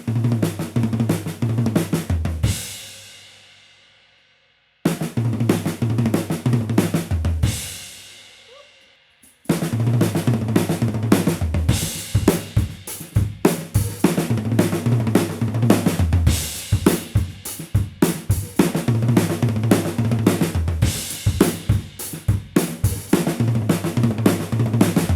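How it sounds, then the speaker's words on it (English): A drum kit plays a punchy groove with busy 16th-note fills, loud and close, broken by two ringing crash-like decays that fade out before the beat restarts and continues steadily. "That is one tasty drum fill."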